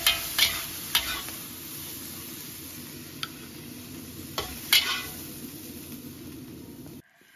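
Bean sprouts and ham being stir-fried, with a steady soft sizzle of frying under continual scraping and stirring, a few sharp clinks of a utensil against the pan, close and alone with no talk, ending abruptly.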